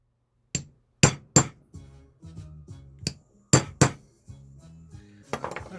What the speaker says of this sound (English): you can get a centre punch, and you can tap this, just make it a bit tighter